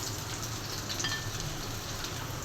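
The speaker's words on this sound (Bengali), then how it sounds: "এই তো ইলিশ মাছ ভাজা হয়ে গেছে," Hilsa fish fries in a pan with an even, continuous sizzle, quiet and close, with no voices.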